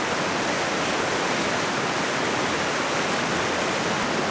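Water from a portable camping shower, used while van camping in the backcountry, pours steadily and loudly into a bucket as an unbroken rushing hiss, with no talking.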